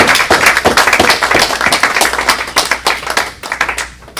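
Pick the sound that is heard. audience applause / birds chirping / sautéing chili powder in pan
audience applause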